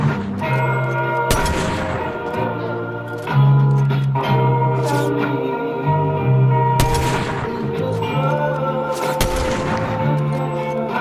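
Video game gunfire in a team shooter match: several loud sharp shots spaced a few seconds apart, ringing over a continuous musical, droning game soundtrack, no voices.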